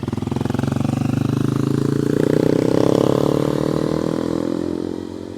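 Several motorcycles pass along a busy road, their engines a steady loud drone that swells toward the middle and then eases off as they go by, with no talk over it.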